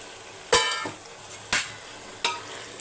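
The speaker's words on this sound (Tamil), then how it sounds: "இப்போ இந்த ஸ்டேஜில் நம்ம ஊற வச்ச இறாவை சேர்த்துருங்க" Soaked prawns go into a pan of frying gravy: three sharp clanks of a spoon against the pan, each followed by a short sizzle and stir, with no talking.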